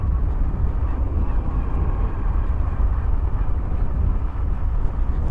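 Small motor boats run across the water near the Kulti lock gate, a continuous low engine drone mixed with wind buffeting, steady and without voices.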